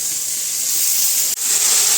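Steady, loud hissing from a pan of frying food while pulao and paneer curry are being cooked, a continuous steamy sizzle with one brief dip and no talk.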